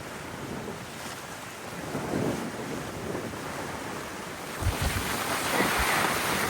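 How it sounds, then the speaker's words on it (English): Strong wind of 25 to 30 knots roars across the microphone while waves surge and break around a reefed sailboat on an Atlantic crossing, a steady loud wash with heavier swells near the end. "25 to 30 knots of wind."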